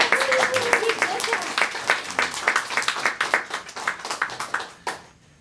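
An audience at an informational meeting breaks into moderate applause, scattered hand claps building to a steady patter and then tapering off near the end, with some talk mixed in.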